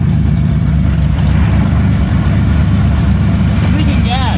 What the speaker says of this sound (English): I just started my Corvair